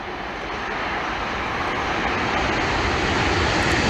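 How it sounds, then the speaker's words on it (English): Red Arrows display jets taking off in formation at Kemble Air Day give a loud, steady, broadband roar that builds slightly and holds throughout, with no voices. "First 3 aircraft are just lifting, followed by the second pair, followed by a 4th ship."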